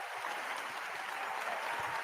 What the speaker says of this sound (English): I just want to give a round of applause to Gunnar Henderson